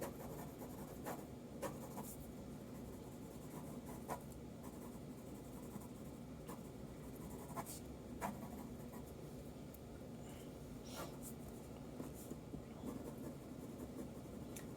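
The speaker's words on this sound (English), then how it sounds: "I am going to basically try to blend everything in lightly with my pencil" A pencil rubs and scrapes lightly across paper in soft, continuous strokes while a figure drawing is blended and shaded, with steady low background hum and a few sharper scratches.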